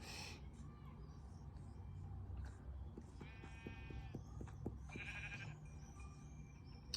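Several short sheep bleats from a video game sound out over a steady low background hum, with a few soft clopping taps in between.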